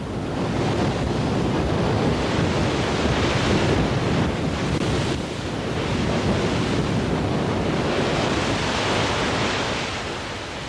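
Storm waves and howling wind on the North Sea in Beaufort 8 to 9 conditions during full-scale ship trials, with a continuous loud roar of surf and wind buffeting the microphone throughout.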